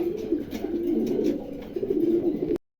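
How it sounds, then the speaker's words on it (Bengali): Low, soft pigeon coos roll on continuously and close by, a throaty murmuring warble with faint rustling behind it, ending abruptly. "খুবই চমৎকার এক জোড়া কবুতর"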